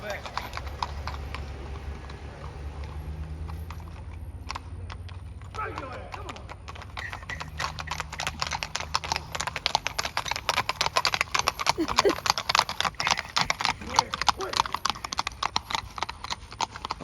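Horse hooves clip-clop in a steady, fairly close rhythm as a rider tries to tame the animal, growing louder and denser in the second half, with people talking over the footsteps throughout.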